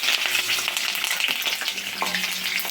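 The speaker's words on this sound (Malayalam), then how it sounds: "തിളച്ച എണ്ണയിലേക്ക് ഇട്ടിരിക്കുന്ന കോളിഫ്ലവർ ഇളക്കി നല്ല മൂത്ത് വരുന്നത് വരെ നോക്കുക." Cauliflower pieces frying in hot oil for gobi 65 while being stirred, a dense, steady sizzle with scattered crackles and occasional scraping knocks of the spoon, close and continuous with no voices.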